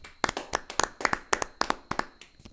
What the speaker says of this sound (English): Children, give him a round of applause.